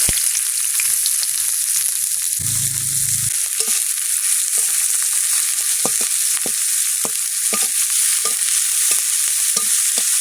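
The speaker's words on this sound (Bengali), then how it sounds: "তেল গরম হয়ে গেছে, কালো জিরে ফোড়ন, শুকনো লঙ্কা, কুচে রাখা পেঁয়াজ," Chopped onion, nigella seeds and dry red chillies frying in hot oil in a kadai, a loud continuous sizzle with scattered sharp pops and crackles and a brief low scrape of stirring partway through.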